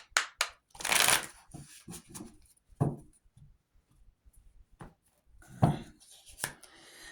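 Several bursts of cards being shuffled, quick riffling rattles separated by softer taps and pauses, close up.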